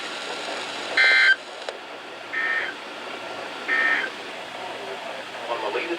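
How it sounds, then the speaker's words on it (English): NOAA National Weather Service weather radio warning alarm test, three separate steady electronic tones sounding over a faint broadcast background. "This ends the test of the National Weather Service weather radio warning alarm."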